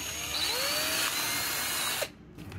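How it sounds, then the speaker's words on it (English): A power drill bores a hole for a potentiometer in a field strength meter enclosure, a steady close whine running for about two seconds before cutting off abruptly, followed by brief quiet handling noises. "Now I'll drill the hole for the potentiometer."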